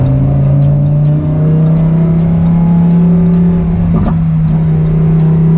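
Lamborghini Huracan Evo accelerating hard up a freeway on-ramp, its engine roaring loud and close with a rising, steady drone and a brief shift midway.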